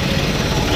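A Trakstar DLX 540 tractor idles close by with a steady low diesel rumble, throughout this short moment.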